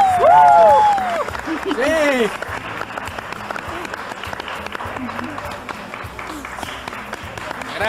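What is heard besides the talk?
warm applause welcoming Felicita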